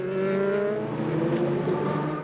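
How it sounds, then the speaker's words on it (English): A race car in the 4 Hours of Le Castellet endurance race holds speed on very worn tyres at Le Castellet, its engine note droning steadily and close, with a slight pitch rise, alone and without talk. "So Tappy needs to keep the speed up as long as he can on these very worn tyres."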